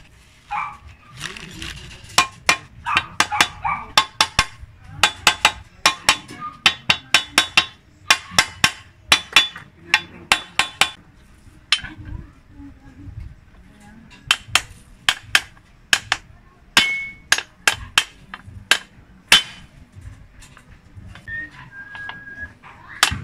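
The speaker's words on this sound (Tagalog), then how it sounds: "Pupukpukin lang natin yan ng martilyo paikot." Rapid series of sharp metallic hammer taps driving a suspension arm bushing into place on a Suzuki Every Wagon, irregular in rhythm with brief pauses, repeated many times close up with no talking.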